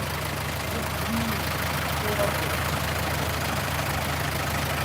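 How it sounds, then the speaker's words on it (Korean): A car engine idles steadily with a low, even rumble and constant hiss, close by and unchanging throughout. "엔진 소리가 되게 좋아졌네요"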